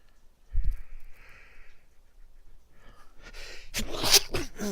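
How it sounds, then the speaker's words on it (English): A single sharp sneeze bursts out near the start, followed by quiet shuffling, then louder close handling noise toward the end. "Go ahead and sneeze while you're recording a video"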